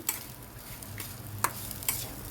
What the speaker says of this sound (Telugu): చూడండి, ఇలాగ ఒక్క 2 నిమిషాలు ఇలా వేగాలి